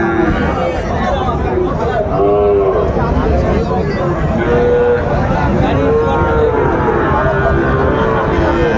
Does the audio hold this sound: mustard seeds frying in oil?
no